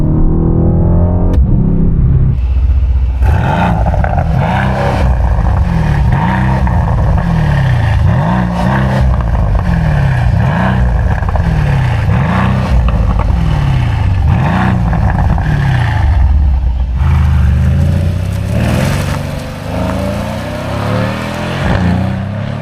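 A 2021 Mercedes-AMG C63 S Coupe (W205) engine revs loudly up and down in repeated surges, close and aggressive, with a deep throaty growl.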